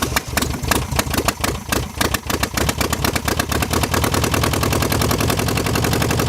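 A 1966 VW Beetle engine running with only half an exhaust fires in loud, rapid, uneven popping bursts at first, then settles into a steady, loud, throbbing idle up close.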